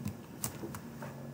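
Code is typed on a computer keyboard. A few quiet, scattered key clicks sound over a faint steady hum, close but soft.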